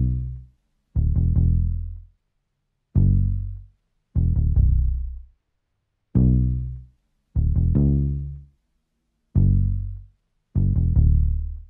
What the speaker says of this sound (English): Next, I add this bass.